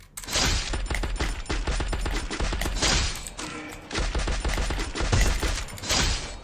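Gunfire in the battle royale game Free Fire, including a VSS rifle: dense bursts of rapid, loud, close shots with brief pauses between volleys.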